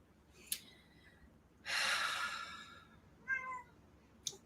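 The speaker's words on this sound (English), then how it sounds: "he starts meowing really loud" A pet cat named Rio meows loudly indoors in a long drawn-out cry, with a shorter meow following a second later and small sniffs or clicks around it, heard close with no talking.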